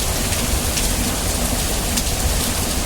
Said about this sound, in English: You can see it's just pouring